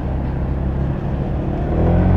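Honda PCX 125 scooter (2018) engine restarting after a stop and pulling away, a steady low motor hum that swells slightly toward the end, close and continuous with no talk.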